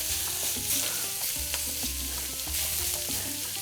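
Pork sizzles steadily as it sears in avocado oil in a pan, with a continuous fry hiss and occasional scraping as the meat is spread out.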